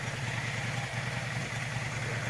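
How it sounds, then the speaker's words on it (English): A motorcycle engine runs steadily as it is ridden, a continuous low, even drone at moderate level with no voices over it. "Riding my motorcycle."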